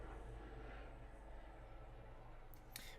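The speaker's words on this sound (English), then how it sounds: "let's just wait for the plane to pass." An airplane passes overhead, a steady broad distant roar that fills the whole stretch at low volume, with a brief sharp noise near the end.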